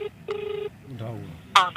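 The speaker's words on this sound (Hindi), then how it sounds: "फोन मिला रखा है" A phone call's ringback tone plays as two steady tone bursts, the second longer, followed by a voice speaking over the line.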